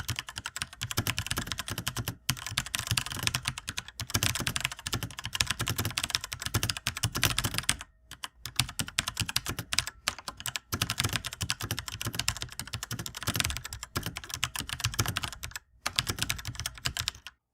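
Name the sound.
mechanical keyboard typing, red switches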